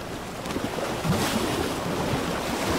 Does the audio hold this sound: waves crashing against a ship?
yes